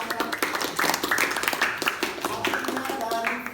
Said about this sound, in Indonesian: kasih tepuk tangannya buat Bapak